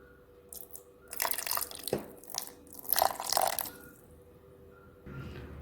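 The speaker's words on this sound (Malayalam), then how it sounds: "നമുക്ക് ഇനി ഇതിലേക്ക് ഒരു ശകലം പച്ച വെളിച്ചെണ്ണ ഒഴിക്കാം" Raw coconut oil is poured into a pot of green mango and anchovy curry in a few short, irregular splashes and trickles, with quiet pauses between them.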